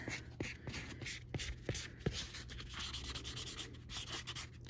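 Edge of a leather bag being sanded by hand, giving soft, faint scratchy rubbing strokes with a few sharper taps, close and quiet with no talking.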